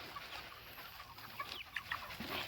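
Meat chickens in a crowded pen make faint, scattered clucks and soft chirps over a low background hum, with no voices.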